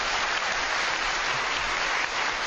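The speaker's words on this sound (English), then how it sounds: "Round of applause for that." Steady, dense applause from a live studio audience at a paranormal investigation broadcast, filling the whole stretch evenly with no talk over it.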